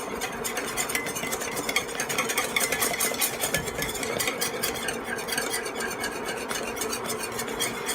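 A whisk beats a flour and sugar mixture in a pot with quick, continuous scraping strokes, close and steady throughout with no talk.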